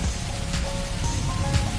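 Rain falls in a Hindi horror cartoon, a steady, even hiss of drops throughout with a few slightly stronger patters and no voices.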